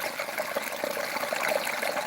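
Irrigation water runs steadily into a tomato field, a continuous trickling, gushing flow heard up close with no talk over it.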